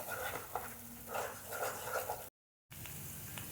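Turmeric, green chilli paste and red chilli powder sizzle in a pan for paneer tikka masala, with a spoon scraping and stirring in quick bursts before a brief cut to silence.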